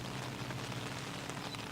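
Steady rain pattering on surfaces during an outdoor cricket match, a dense even hiss with no voices, continuous throughout.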